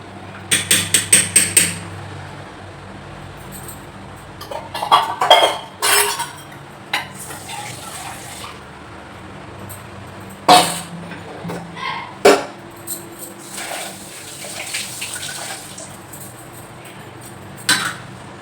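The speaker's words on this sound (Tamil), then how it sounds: "கம்பு அரைச்சி வச்சிருக்கோம் இல்லையா அதை வந்து இப்போ நம்ம நல்லா அப்படி கிண்டி விட்டுக்கிறணும்" Ground pearl millet porridge being stirred in a pot. A spoon clinks and scrapes against the metal vessel in scattered taps, with a quick run of knocks at the start, over a quiet room background and no talk.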